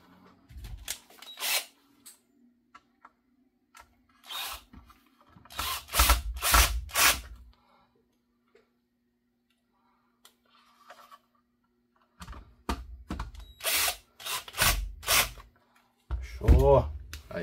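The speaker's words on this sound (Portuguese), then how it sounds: "Vamos colocar aqui os parafusos de novo." A power drill drives screws back into a Sega Master System 3 console, several short whirring bursts in two clusters, close and loud, separated by quiet stretches.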